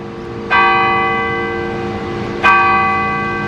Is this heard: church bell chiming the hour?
yes